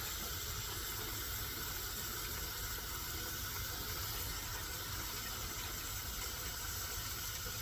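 Water poured over dried beans split between two pots, a steady hiss of running water filling the pots, faint and unbroken.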